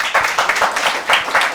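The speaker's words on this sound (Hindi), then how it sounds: "ये ज़बरदस्त, तालियां बजाओ उनके लिए" A studio audience on a television show claps and applauds steadily and loudly for a moment, a dense patter of many hands.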